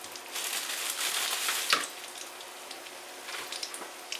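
Buns toast on a hot pan with a faint, crackling sizzle, a brief thump as something is set down, and scattered light pops fading toward the end.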